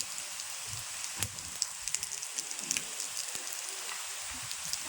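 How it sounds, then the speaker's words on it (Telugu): Rain falls during a windy summer evening shower, a steady broadband patter with scattered distinct drops, fairly close and without talk. "ఓ వర్షం కురిసిన సాయంత్రం"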